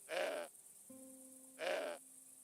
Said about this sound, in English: I couldn't let the goat eat Trevor